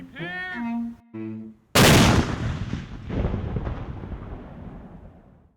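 A Civil War era light artillery cannon of a Pennsylvania battery fires with a single loud, close boom whose rumbling echo decays slowly over several seconds, following a brief shouted command.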